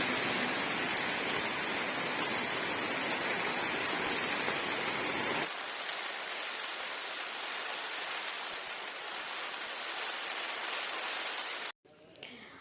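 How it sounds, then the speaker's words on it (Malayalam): Heavy rain pours outdoors as a dense, steady roar that stays loud throughout, its texture shifting partway through and cutting out briefly near the end. "നല്ല മഴ സ്റ്റാർട്ട് ചെയ്യാൻ പോവാണ് കേട്ടോ"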